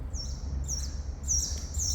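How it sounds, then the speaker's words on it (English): Birds call in short, high chirping bursts, about four quick calls over a low steady rumble, moderately near with no talking. "Those birds."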